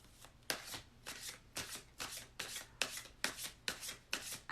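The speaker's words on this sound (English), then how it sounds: "I'm gonna just shuffle my cards." A deck of tarot cards shuffled by hand, close and fairly soft, in about ten regular riffling strokes of roughly half a second each, with no talking.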